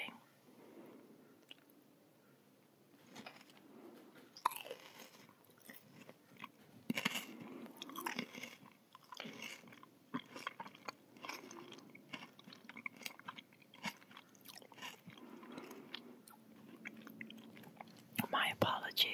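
Close-up, quiet chewing of Dutch pickled herring with tiny soft fish bones, wet squishy bites and crunches in irregular bursts, with soft whispering between mouthfuls.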